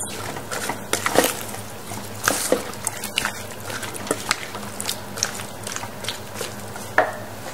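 A slow cooker beef and vegetable casserole with cherry tomatoes and parsley is being stirred, giving irregular wet squelches and soft scrapes with a few louder clatters, close by and alone.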